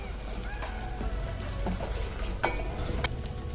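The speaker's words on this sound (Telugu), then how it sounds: "ఇలా ఆయిల్లో వేగించుకుంటూ ఉండాలి." Ginger garlic paste fries in oil for a prawn pickle, a steady soft sizzle with occasional stirring clinks and scrapes.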